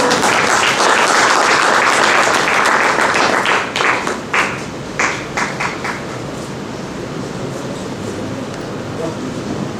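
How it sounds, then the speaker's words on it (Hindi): Applause at a theatre festival award ceremony in Ambala fills the room, loud and dense at first, then thins into scattered claps before fading into a softer crowd murmur. "आपकी तालियां रुकनी नहीं चाहिए।"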